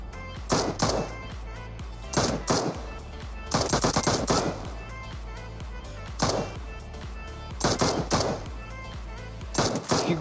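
Automatic gunfire in PUBG Mobile, several loud rapid bursts of shots separated by short pauses, close and sharp, with brief gaps of game ambience between volleys.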